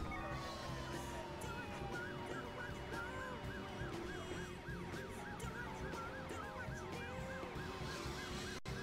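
A police car siren in the video game Driver San Francisco wails in a rapid yelp pattern over busy traffic and engine noise, steady and fairly faint throughout.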